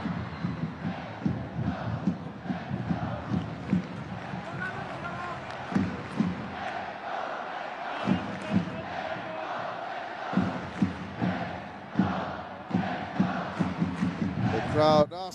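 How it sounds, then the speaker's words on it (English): Football stadium crowd at a Kawasaki Frontale versus Shimizu S-Pulse match chanting in a steady rhythmic roar for a goal, dense and continuous with rising bursts, heard at a distance throughout. "The crowd asking for a goal."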